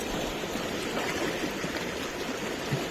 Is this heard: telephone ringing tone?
no